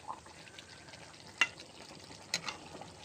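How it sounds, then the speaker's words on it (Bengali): Chicken pieces cooked down with onions, stirred in a pan, giving a quiet, soft sizzle with a few sharp scraping taps of the utensil. "বন্ধুরা মাংসটা ভালো করে কষিয়ে নেবেন"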